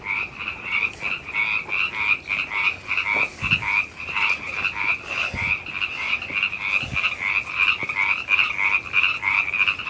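Frogs croak loudly and continuously in a fast, pulsing chorus, close by, with occasional rustling thumps underneath.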